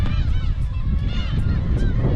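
Black-tailed gulls call in a dense, honking chorus at a nesting colony around the Kabushima shrine, with steady wind noise rumbling underneath throughout.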